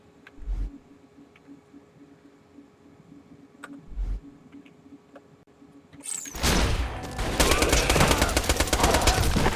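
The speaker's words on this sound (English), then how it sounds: "I should try out my new SMG." An SMG in the Borderlands 2 shooter game opens up with sustained, loud rapid-fire bursts in the final few seconds. Before that come a few faint thuds and ticks over a quiet background.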